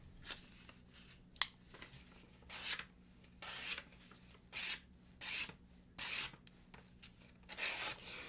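A Benchmade Bugout folding knife slices through a sheet of paper. About eight short raspy swishes come in an uneven rhythm, close and fairly quiet, with a sharper snap near the start.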